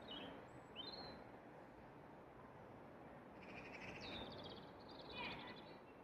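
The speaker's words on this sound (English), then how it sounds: "But some lovely little birdies" Small birds chirp faintly outdoors on private property, with a few brief high tweets scattered over a steady, quiet ambient hiss.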